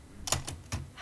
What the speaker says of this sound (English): You wanted part of Bob Tilly's flashback when he was typing